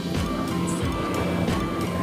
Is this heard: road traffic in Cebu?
yes